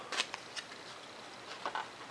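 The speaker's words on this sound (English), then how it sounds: "went ahead and cut out the top of the cowl" Scissors snipping paper cowl parts for a micro J-3 Cub paper model airplane, a few quiet, crisp snips spaced apart, close and soft, with no voices.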